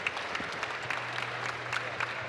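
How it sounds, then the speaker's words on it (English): Applause from a conference audience for a panel of speakers after a debate, steady and moderately distant, a broad wash of clapping with scattered sharper claps. "I think they deserve a huge round of applause."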